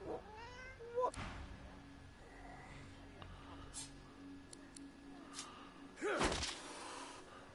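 A cat in the video game Divinity: Original Sin 2 meows a few times, including a drawn-out cry near the end, amid quiet background sounds and brief voices.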